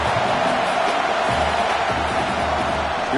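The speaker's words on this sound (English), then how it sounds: "here comes the noise. This crowd is trying to inspire this defense to make a big red zone stop." Football stadium crowd roaring to inspire the defense ahead of a red zone stand, a continuous dense wall of cheering from a large crowd, steady and loud throughout.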